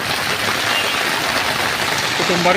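Heavy rain over a waterlogged street in Sunamganj, a dense continuous wash of falling water close by, with a voice starting to speak near the end.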